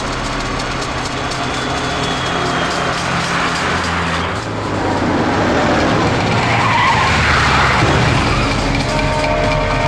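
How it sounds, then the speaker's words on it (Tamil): Cars chase each other along a road in a film scene, engines roaring loudly and steadily with a sweeping tire and wind rush that swells as vehicles pass close. "கதிரவா, 2 வண்டி நம்மளை தொடர்ந்து வருது."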